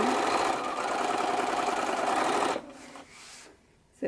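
A sewing machine stitches fabric strips in a fast, continuous mechanical whir for a couple of seconds, then stops, followed by quieter handling sounds and a brief final burst.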